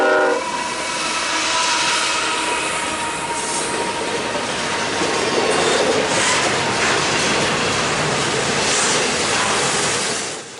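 CN freight train Q115, led by a GE ES44AC with a burnt-out headlight and a Dash 9, roars past at a crossing with a loud horn at the start, then steady wheel rumble and squeal close by.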